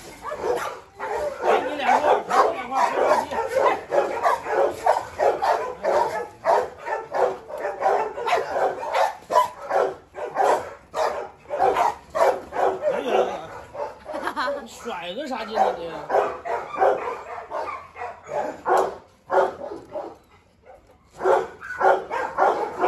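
Several dogs bark and yip close by in rapid bursts for the whole stretch, with whimpers mixed in and people talking over them.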